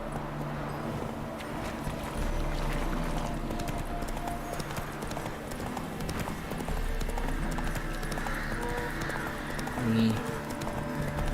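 Horse hooves in The Witcher 3: Wild Hunt clip-clop in a steady running rhythm, carried on throughout under a game soundscape, with a brief whinny near the end and a voice speaking over it.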